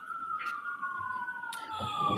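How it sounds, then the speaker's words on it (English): A siren wails steadily at moderate distance, its tone sliding slowly downward, with faint background noise and a few brief rustles. "sirens."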